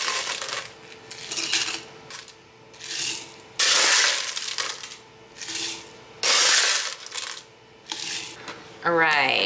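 Ice cubes tumble into a glass for an iced caramel latte made with instant espresso powder, giving a series of clattering, rattling pours in separate bursts with short pauses between them.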